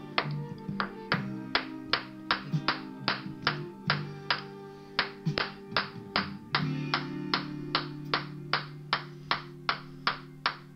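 Parts tapped back onto a Mamod SR1A model during a restoration: a steady run of sharp, close knocks, roughly two per second, repeating evenly and alone with a faint hum beneath.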